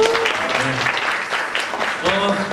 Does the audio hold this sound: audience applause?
yes